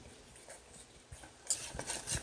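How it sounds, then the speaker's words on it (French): Thickened maple syrup pie filling stirred vigorously in a pot, giving soft scraping and sloshing that grows louder and busier toward the end, with no voices. "Il faut s'assurer de brasser vigoureusement pour pas que ça colle"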